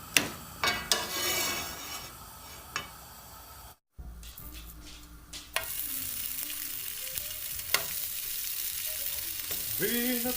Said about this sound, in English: it just wouldn't be the same without frying it first